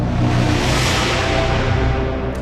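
A cinematic trailer braam hit: a dense, loud, sustained low brassy roar with thick noisy texture that holds steady for a couple of seconds and only slightly eases toward the end.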